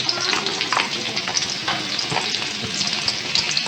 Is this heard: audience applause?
no